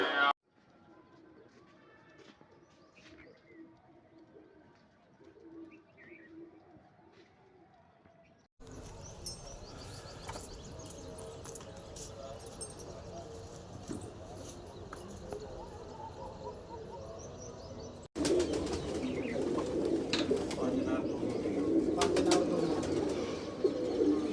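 Pigeons coo steadily at a rooftop pigeon-flying competition in Amritsar, with a busy outdoor din that grows louder toward the end.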